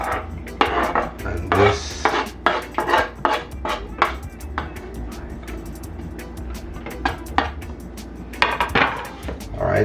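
A metal spoon scrapes seasoning out of several bowls while Jamaican-style chicken seasoning is prepared, giving close, repeated clinks and scrapes in irregular bursts, with someone speaking briefly over them.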